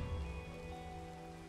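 Steady rain falls in the video game Minecraft, an even, continuous patter on surfaces that holds at a constant level throughout, with no voices.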